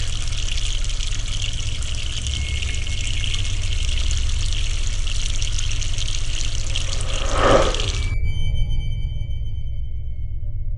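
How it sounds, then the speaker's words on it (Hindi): Water runs steadily from a tap in an old haveli in an animated Hindi ghost cartoon, a loud continuous gush that stops abruptly near the end, leaving a faint tail. "अच्छा हुआ इस हवेली के नल में अभी भी पानी आता है।"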